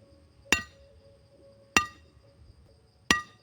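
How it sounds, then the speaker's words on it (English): Three sharp metallic hammer blows drive a steel core cutter into soil at slow, even intervals, each ringing briefly against a quiet background. "I am going to placing this core cutter in this soil with the help of this hammer"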